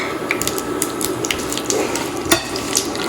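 Red chillies and dried curry leaves sizzle in hot oil for a tadka topping yogurt eggplant, a steady close crackle with small pops and a brief louder spatter near the end, with no talking.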